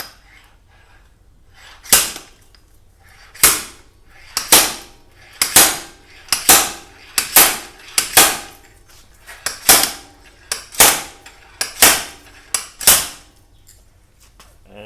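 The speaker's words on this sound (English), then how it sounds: "Once you've done that, connect the slide hammer." Sharp metallic clanks from a slide hammer pulling a BB30 press-fit bicycle bottom bracket bearing repeat at an uneven pace, a dozen or so loud impacts ringing out close by with quiet gaps between them.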